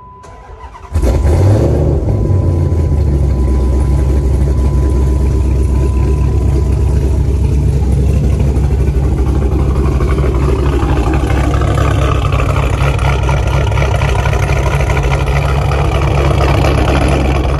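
A cammed Chrysler 300 V8 fires up on a warm start with a sharp catch, then settles into a loud, lopey, choppy idle with repeated throaty revs, close by and steady throughout.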